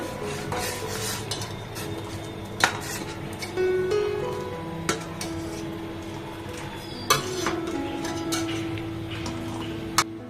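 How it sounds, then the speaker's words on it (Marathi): Milk with custard powder is stirred in a pot on a home kitchen stove, a spoon scraping and tapping the pot in an irregular rhythm, with a few sharper metallic clinks, close and moderately quiet. "दूध जरा हलवून घेऊया"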